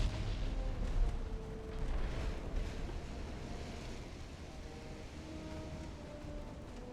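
Warship guns firing in the naval game Ultimate Admiral: Dreadnoughts, a faint, continuous rumble of distant booms rolling together under a low, steady battle din, with no voices.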